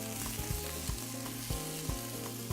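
Peppers and onions sizzle and fry in a hot pan, a steady close crackle with a few soft clinks of a utensil stirring, no talking.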